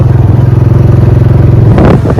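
A motorcycle engine thrums steadily and loudly up close with a regular pulsing rhythm on a potholed road near Thol lake, then a brief clatter as the ride jolts near the end.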